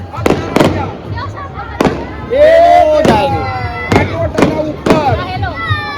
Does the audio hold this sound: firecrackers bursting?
yes